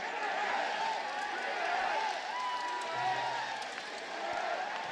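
Distant crowd noise at a Dodgers vs. Padres baseball game in Monterrey, Mexico, a steady, swelling roar with faint cheering and clapping, heard under people talking nearby.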